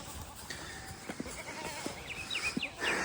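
A farm herd of about twenty goats, including Nigerian dwarfs, bleats in short scattered calls, a few close and loud, others fainter, over a quiet outdoor background.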